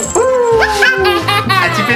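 A toy dog plays a sequence of electronic barks and yips in quick succession, loud and close, with a squeaky synthetic whimpering tone.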